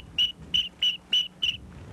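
A Duck Commander duck call whistle imitates a teal, giving five sharp, evenly spaced high whistle blasts, loud and close, over a quiet background.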